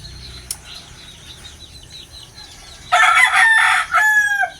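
Chickens cluck softly in the background, then a rooster crows loudly nearby, a long crow followed by another shorter one.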